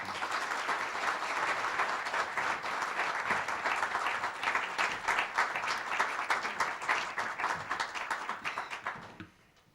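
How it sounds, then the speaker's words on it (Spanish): An audience claps to welcome the author at a book presentation, a loud sustained roar of many hands that thins into separate claps before dying away at the end. "les pido un fuerte aplauso para recibir a la protagonista"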